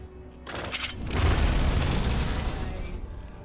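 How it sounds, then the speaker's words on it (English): Massive explosion rocking the side of a bridge in a tabletop role-playing game, a loud booming blast with crackling debris that swells and rumbles for several seconds before tapering off. "as a massive explosion rocks the side of the bridge"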